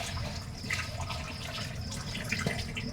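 Tap water running into a sink while a gas cooker is washed, a steady moderate splashing stream with light clinks of handling mixed in.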